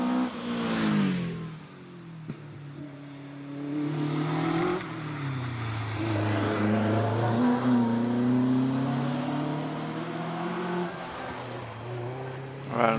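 A 1700cc Caterham 7 race car climbs the Prescott hill climb in the British championship, its engine revving hard through rising and falling gear changes, loud and close throughout with a commentator's voice faintly beneath.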